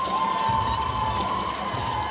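A crowd cheers and shouts steadily at a Clemson Tigers gymnastics meet against NC State, a dense, continuous roar of many voices, including high young voices, throughout.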